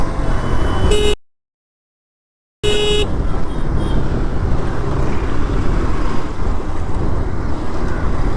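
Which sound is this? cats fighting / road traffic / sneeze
road traffic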